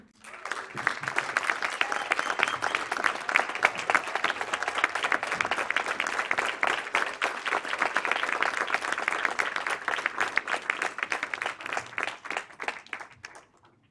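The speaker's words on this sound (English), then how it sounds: "I ask you now to turn around and applaud your family, friends, classmates, and loved ones" Sustained applause from a large graduation ceremony audience, dense and steady, swelling early and tapering off toward the end.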